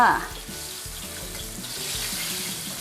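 Tilapia fish frying in hot oil sizzles steadily and evenly throughout, with a short sharp clatter at the very start and no talking.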